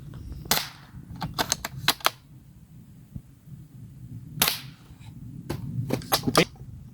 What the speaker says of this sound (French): on va tirer 5 billes maintenant dans la cible avec le sniper à verrou